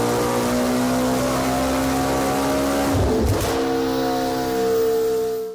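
A McLaren with a janky tune revving steadily, a loud close droning engine note that dips and flutters midway through before holding and cutting off at the end.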